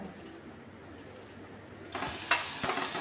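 After a quiet hum, a sudden loud sizzle bursts out and keeps hissing as spiced mackerel hits hot oil in a frying pan, with a couple of sharp clacks.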